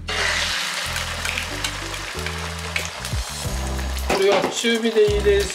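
Egg poured into hot oil in a wok for salt ramen, giving a bright crackling sizzle that swells loudly toward the end, while a person speaks over it and clinks and scrapes are heard.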